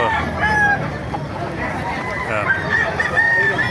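A rooster crows amid a busy outdoor background of other fowl and murmuring voices at a market in Bocaue, the call rising above steady farmyard noise.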